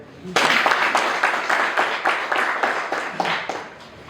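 An audience at a speech honouring Dr. James Alic Garang, former governor, breaks into a burst of applause, dense clapping that rises sharply and continues steadily for several seconds before thinning out.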